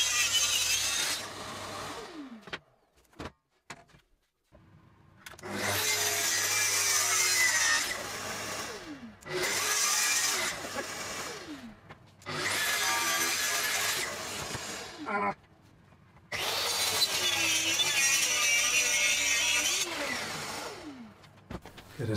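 A saw cuts walnut rails for a mid-1970s-style footstool, with the wood scorching and burning. Four long, loud cutting passes are separated by short pauses, the motor whine rising and falling with each pass.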